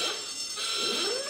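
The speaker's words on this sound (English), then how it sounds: "I can't believe I got a buzzer again." A quiz show buzzer sounds in a studio panel game, a short sustained electronic tone alone at moderate level with a slight rising sweep toward the end.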